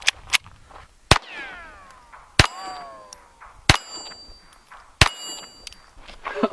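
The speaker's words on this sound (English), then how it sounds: "First round is gonna be the 22 long rifle out of the Walther P22." Sharp metallic clangs ring out as .22 LR rounds fired from a Walther P22 strike a stainless steel plate, five distinct hits spaced about a second apart, each with a short ringing decay, fairly distant and without talk.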